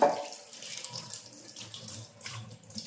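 Dishes washed under a running kitchen tap, a steady close stream of water splashing into the sink with soft clinks and shifting splashes as utensils are rinsed.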